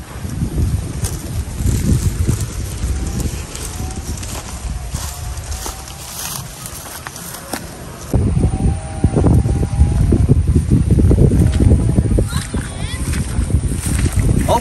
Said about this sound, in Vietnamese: giờ có gió khỏi chạy nha